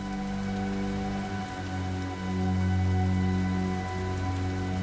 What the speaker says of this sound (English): The heavy downpour has sent flying termites crash landing into puddles.